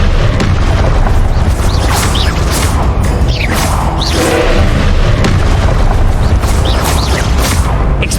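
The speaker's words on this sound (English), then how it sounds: "Expelliarmus. Confringo." Confringo spell blasts in Hogwarts Legacy, a dense, loud barrage of booming explosions and bursts with whooshing streaks, continuous and crowded throughout.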